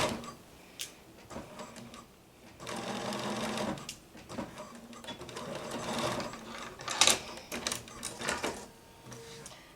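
A sewing machine back-stitches a blouse seam in close, loud bursts of rapid mechanical whirring, stopping and starting several times, with a brief pause mid-way and faint background noise between runs.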